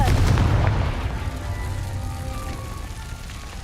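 In Hogwarts Legacy, a Confringo fire spell goes off as one deep, booming explosion at the start, its low rumble fading slowly with a lingering hum.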